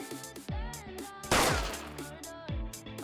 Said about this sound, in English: I just heard a single gunshot from outside.